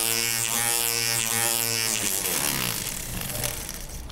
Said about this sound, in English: So that fits really well inside the ring for polishing it.